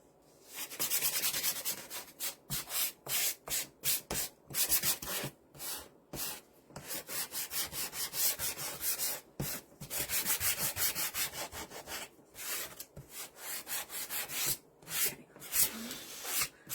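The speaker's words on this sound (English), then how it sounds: "I was just kind of sanding the edge where that paint has gotten on the sides there." Sanding along the painted edge of a small wooden bunny, a steady series of close, scratchy rubbing strokes in quick rhythmic bursts with brief pauses, no talking.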